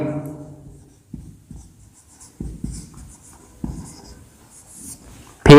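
Chalk scratching and tapping on a classroom board during a chemistry lesson on complex compounds, coming in several short bursts with quiet gaps between them, and a sharper knock at the very end.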